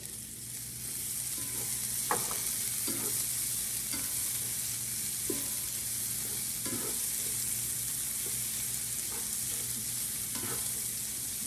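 Red onion sizzling with pancetta in a pan while cooking a roasted tomato rigatoni sauce. A steady soft frying hiss carries through the whole clip, broken by a few quiet scrapes of stirring.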